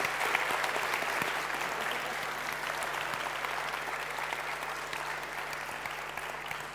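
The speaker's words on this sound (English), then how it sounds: "Give them a big round of applause," Sustained audience applause at an innovation labs demo day, a steady dense wash of many hands clapping that holds evenly for several seconds and eases slightly toward the end.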